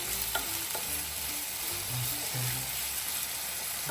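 Chicken curry ingredients, including onions, sauté in a pan over medium flame, with steady frying sizzle and repeated stirring knocks and scrapes of a utensil throughout, close and moderately loud, no talking.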